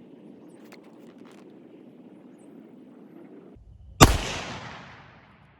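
A single sharp, loud rifle gunshot firing a 25 GPC hunting load with Hammer 116 Shock bullets and CFE223 powder, cracking after quiet wind noise and fading in a short outdoor echo.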